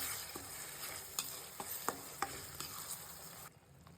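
Ground masala frying in oil in a pan, stirred with quiet scraping clicks over a soft continuous sizzle that cuts off just before the end.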